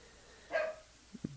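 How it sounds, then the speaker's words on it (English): Dogs bark at a distance, one sharp bark followed a moment later by two quick softer yips, set against a quiet background. "I hear dogs barking."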